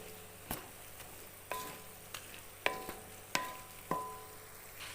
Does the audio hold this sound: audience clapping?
no